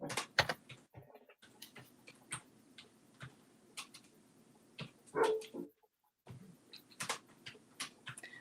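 Dogs meeting and making friends give a few soft barks and yips, scattered between quiet gaps and light clicking and tapping noises in a calm indoor room.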